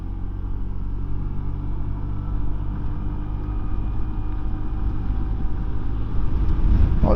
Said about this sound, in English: There's a lot of wind coming across this dual carriageway now